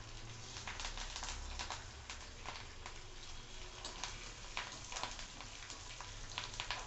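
Green chilies and curry leaves with a pinch of asafoetida sautéing in a hot pan, a steady close crackling sizzle with scattered sharp pops and no speech.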